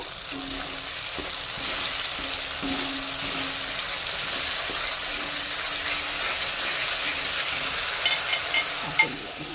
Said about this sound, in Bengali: অল্প একটু জল দিয়ে ভালো করে মশলাটা কষাবো।